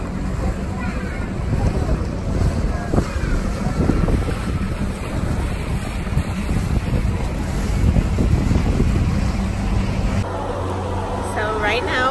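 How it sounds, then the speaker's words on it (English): Steady engine rumble and wind buffeting on a water bus moving through the canals of Venice, Italy, with water noise and occasional voices in the background. "So right now we are on a water bus and we're going through Venice."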